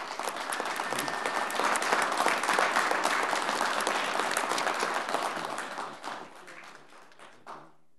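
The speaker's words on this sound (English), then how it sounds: "Please give them a round of applause." An audience at a school board meeting breaks into sustained applause, steady clapping that holds strong for several seconds before fading out with a few last claps.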